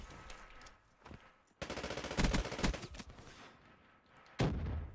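Rapid bursts of XR2 assault-rifle gunfire in a free-for-all shooter match, loud close volleys broken by short pauses and ending with a sharp final burst.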